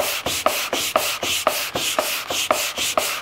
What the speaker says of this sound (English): this isn't a whole lot of hand sanding and cleaning up pretty well